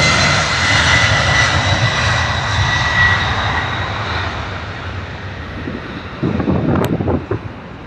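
A United jet airliner departing London Heathrow Airport roars loudly and steadily, a broad engine rumble with wind buffeting the microphone, the sound thinning slightly as the plane climbs away, with brief louder gusts near the end.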